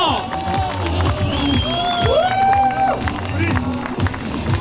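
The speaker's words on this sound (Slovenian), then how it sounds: "Gremo še en aplavz, zelo malo spodbude ljudje, gremo!" A crowd gathered on the seafront at Portorož for a New Year's Day sea jump claps and cheers loudly and continuously, with shouts and chatter mixed through the steady roar and an amplified voice rising over it.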